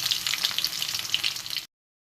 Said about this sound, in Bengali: রসুনটা একটু ভাজা ভাজা হয়ে গেছে